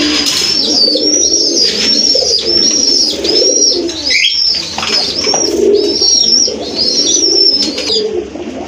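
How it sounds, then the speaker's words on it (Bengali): Big Indian Mumbai pigeons, a pair, coo in a repeating series of soft rolling calls, close and steady, with faint chirps and a wing flutter in the background. "মাসাল্লাহ বিগ সাইজের একজোড়া ইন্ডিয়ান মুম্বাই কবুতর একদম ফ্রেশ কবুতর"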